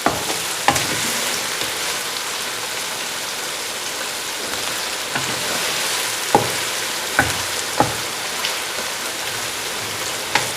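A steady, close sizzle of onions frying in a hot pan for Iranian chicken karahi, with occasional soft taps and clinks of a utensil against the pan.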